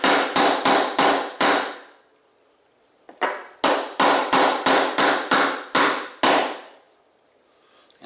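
Quick bursts of close hammer strikes driving a finishing nail into PVC, several rapid blows, a pause, then more rapid tapping, loud with brief quiet gaps between groups.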